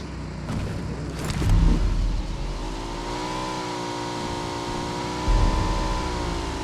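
A motorbike in the PUBG Mobile battle royale game revs up and arrives, its engine note rising and holding steady with a couple of louder low surges, fairly close and continuous.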